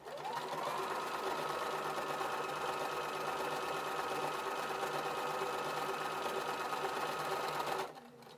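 A sewing machine with a blindstitch foot stitching a hem runs steadily at a fast, even whir for about eight seconds, then stops abruptly.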